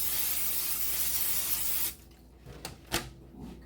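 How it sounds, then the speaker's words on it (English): Olive oil cooking spray hissing onto a baking pan in one long continuous spray, then stopping, followed by a few soft clicks and light handling sounds close by. "I have some olive oil spray. I'm gonna spray my pan down."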